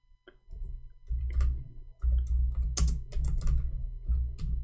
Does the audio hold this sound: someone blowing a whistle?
no